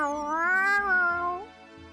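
A human voice imitates a cat's meow, a single drawn-out, rising-then-falling wail lasting about a second and a half, loud and close, with nothing else around it.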